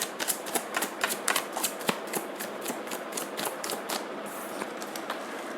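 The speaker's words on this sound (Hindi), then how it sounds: "आपने देखा ना मैंने कितना शफल किया, ये उड़ के जंप करके उधर गया।" Tarot cards are shuffled by hand in a fast run of crisp, papery flicks and snaps. The sound is close and steady, with no voice.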